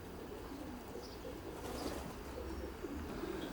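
Racing pigeons coo softly in a small natural loft with an open door trap, a faint steady murmur of birds with occasional wing flutters in the background.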